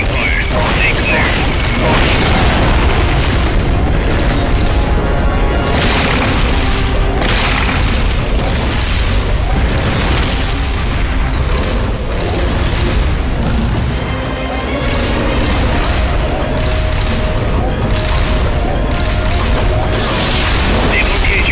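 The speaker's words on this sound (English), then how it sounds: "The requested supporting fire. Stay clear." Supporting fire in Metal Gear Solid Peace Walker pounds the area with repeated heavy explosions and booming impacts, loud and continuous, mixed with clanking mechanical rattles and metallic debris across the barrage.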